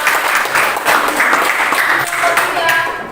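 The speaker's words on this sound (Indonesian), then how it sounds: "beri tepuk tangan untuk kelompok 2." A group in a teacher training session (PPG Daljab 2022) gives a round of hand clapping, dense and continuous from start to finish, close and loud, with crowd murmur mixed in.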